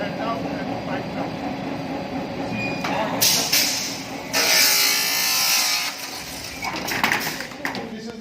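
A PVC pipe production line runs loudly at close range, a steady mechanical drone with hissing and whirring bursts as the extruded pipe is cooled and cut, with someone talking over the machinery.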